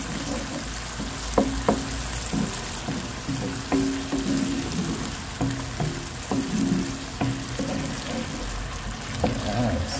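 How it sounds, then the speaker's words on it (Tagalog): Noodles stir-fried in a pan with sardines, soy sauce, oyster sauce and plenty of pepper, giving a steady sizzle broken by intermittent clinks and scrapes of a utensil stirring. "Haluin lang natin para maluto yung toyo tsaka yung oyster sauce."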